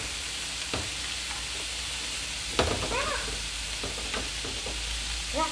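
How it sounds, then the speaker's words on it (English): Celery and other vegetables stirred together in a hot pan for zucchini lasagna, a low steady sizzle with scattered scraping knocks and one sharper clatter, close and without talking. "go ahead and stir them together"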